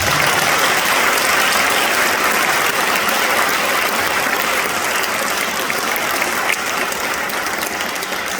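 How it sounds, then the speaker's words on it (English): An audience applauds at a Second Amendment bill signing ceremony in the Rhode Island State House, with loud sustained clapping that holds steady throughout and tapers only slightly near the end. "I want to make sure that they get a round of applause."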